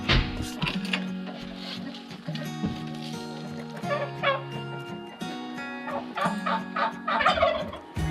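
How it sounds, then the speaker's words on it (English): Turkeys gobble repeatedly near a house, with rapid rattling calls in several bursts, mixed with a dog's yipping barks and some nearby talking. "There's been some turkeys laying some eggs under the house."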